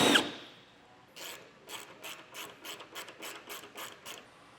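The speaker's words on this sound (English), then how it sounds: "we're going to be using a 10mm socket for these 4 bolts that hold the fascia to the skid plate" Ratchet with a 10mm socket backing out the bolts that hold the front fascia to the skid plate on a 2021 Jeep Cherokee: a run of about ten quick, evenly spaced clicks after a brief knock, close and fairly faint.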